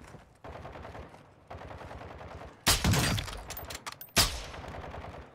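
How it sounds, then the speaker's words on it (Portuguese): Gunfire in the video game Call of Duty DMZ, with bursts of rapid automatic shots, then two loud, close, sharp volleys standing out against quieter background shooting. "Tô levando um tiro aqui!"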